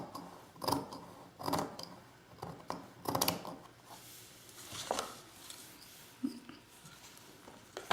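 Scissors snip through lace in a papercraft layout, a series of short, crisp cuts spaced irregularly and heard up close at fairly low level, with no talking.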